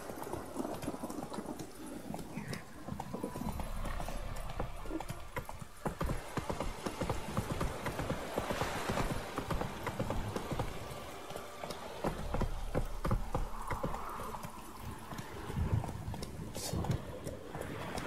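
A horse gallops with steady, rhythmic clip-clop hoofbeats in The Witcher 3: Wild Hunt on PS4. The hooves stay close and continuous over a busy in-game ambience.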